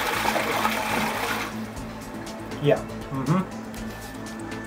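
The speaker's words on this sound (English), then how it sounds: "these toilets here are kind of these super duper flush toilets" A powerful New Zealand dual-flush toilet flushing, a loud rushing surge of water that cuts off abruptly after about a second and a half, followed by faint trickling, with someone speaking over it.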